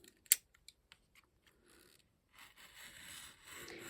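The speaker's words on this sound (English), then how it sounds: "this is not a special X-Acto knife of any sort" An X-Acto knife cutting paper slowly, giving a few short sharp snips and scratches followed by a soft continuous scraping drag, quiet and close.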